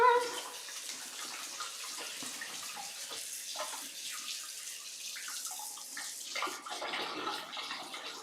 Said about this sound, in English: I'm gonna wash my hands one final time.